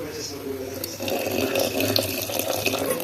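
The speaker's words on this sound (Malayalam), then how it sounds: "ഈ അപ്പത്തിലേക്ക് നമുക്ക് തേങ്ങാപ്പാൽ ഒഴിക്കാം കേട്ടോ." Coconut milk poured into a pan during home cooking, a steady liquid trickle and splash that runs continuously throughout, fairly close, with a faint voice in the background.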